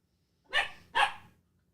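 A young dog gives two sharp barks in quick succession, close and fairly loud, with silence around them.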